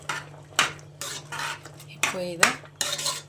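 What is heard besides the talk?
stirring peas masala with onion, chilli, coriander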